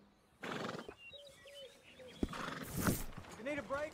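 A horse neighs and whinnies in a video game, with hoof clip-clop nearby, while a character talks over the sounds.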